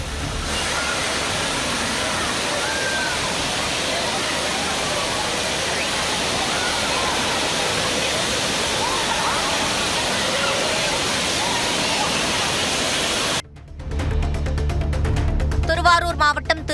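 A waterfall at a tourist spot roars as a steady, loud, dense rush of falling water, and then breaks off abruptly near the end into other sounds.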